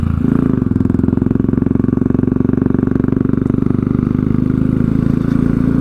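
A Royal Enfield Classic 500 motorcycle engine running steadily at idle close by, a loud, even single-cylinder thump with metallic clatter that holds a constant beat throughout.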